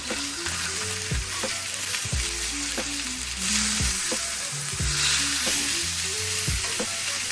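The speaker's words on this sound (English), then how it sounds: "we're going to cut these up and saute them with the broccoli" Carrots and broccoli sauté in a cast iron skillet with a continuous close, loud sizzle, broken by repeated knocks and scrapes of stirring.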